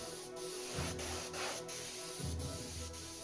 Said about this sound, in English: I thought I'd go ahead and spray a little on the wing